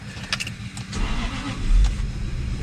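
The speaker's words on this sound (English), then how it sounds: "Jaguar doesn't have a problem starting because Jaguar is gas powered." A gas-powered Jaguar car engine cranks and catches over roughly two and a half seconds, a close, steady mid-low rumble that swells toward the end, with a few faint metallic jingles early on.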